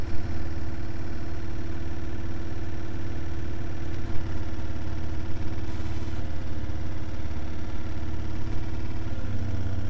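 A small motor on a Bedini circuit hums steadily and continuously, close and loud, with a constant droning tone and slight fluctuations.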